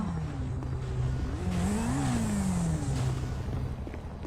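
A motorcycle engine revs up and eases back down, its pitch rising and falling steadily, loud and close with a broad rumbling roar throughout.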